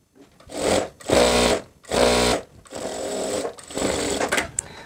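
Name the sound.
sewing machine stitching skirt seam twice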